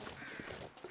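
A brief, faint caw of a crow in The Long Dark, a survival video game, heard distantly over a soft ambient wash.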